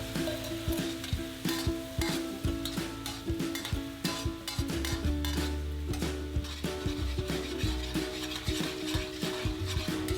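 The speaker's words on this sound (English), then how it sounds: "Now we can quickly add the sauce." Maggi sauce sizzles in a hot wok for Hong Kong style lobster while a utensil stirs and scrapes repeatedly, giving a rhythmic series of clanks over a continuous frying hiss.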